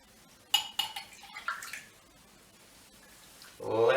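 Pumpkin punch is ladled over a large ice cube into a chilled glass: a few clinking, knocking taps of ladle and glass, then a brief close pour of liquid at the end.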